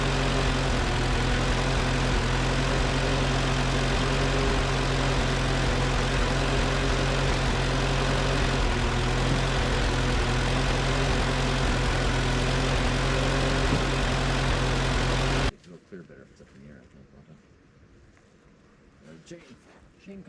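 An Allis Chalmers i40 tractor engine, freshly rebuilt after years of neglect, runs with a loud, steady drone for about fifteen seconds, then cuts off abruptly into near quiet.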